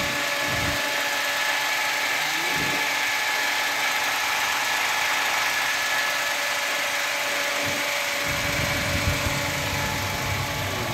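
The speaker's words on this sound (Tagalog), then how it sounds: "Ito ang kanyang engine mga boss. Auto 6. Kanyang engine." A Suzuki Hustler mini car's engine runs at a steady idle close to the microphone, a constant mechanical hum with a few brief low thumps and rumbles breaking in.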